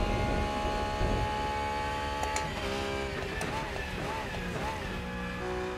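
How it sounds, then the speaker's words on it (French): A BMW M4 or Porsche 911 GT3 R race car in the racing game Rennsport drons loudly, with warbling, pulsing tones from its traction control sliding over the engine, while someone talks over it. "le son du traction control est super bizarre"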